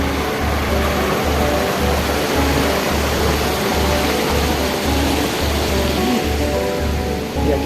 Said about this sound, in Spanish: Y aquí está el río.